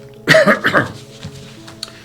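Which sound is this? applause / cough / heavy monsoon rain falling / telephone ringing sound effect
cough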